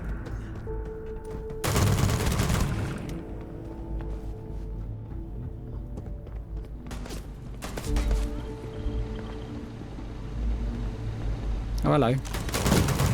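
Brutal-sounding gunfire from the Magstorm weapon in the sci-fi game Starfield, sharp bursts of shots in several volleys over a steady low hum, with a brief spoken greeting in between.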